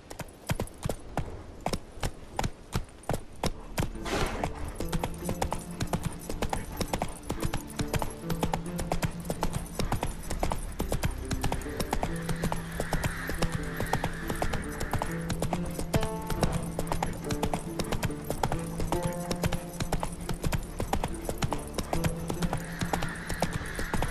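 In The Witcher 3, the horse Roach gallops with rapid, close clip-clopping hoofbeats that settle into a steady driving rhythm, accompanied by soft background music.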